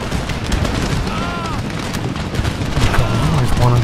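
Grenades bursting in the video game Empire Total War, a battlefield din of booms and crackling gunfire with someone talking over the blasts.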